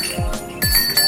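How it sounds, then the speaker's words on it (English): Small bells ring with bright, lingering tones in a short festive burst, struck twice in quick succession, close and fairly loud with no talking. "I'm ringing the bells of good news. That's what these are."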